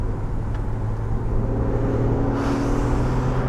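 Steady broadband wind rush and low road rumble fill the cabin of a Porsche 911 991.1 Carrera with the sunroof tilted open, a constant airflow that gets slightly brighter partway through, with no talking.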